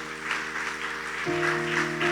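A church congregation claps together for the Lord, broadband applause running steadily throughout with sustained keyboard or organ tones underneath that swell louder midway.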